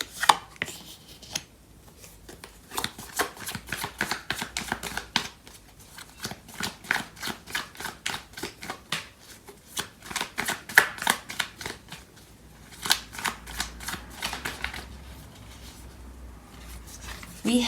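Tarot cards being shuffled in quick riffling bursts, a crisp run of rapid flicks and slaps that pauses briefly now and then, close and clear with no talking.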